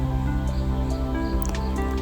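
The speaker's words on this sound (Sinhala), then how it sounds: "දැන් අනිත් වතුර අඬු කෝප්පෙත් එකතු කරගන්න ඕනි." Water being poured into a flour mixture for egg roti, heard close up as soft wet squelches and small drips over a steady background hum.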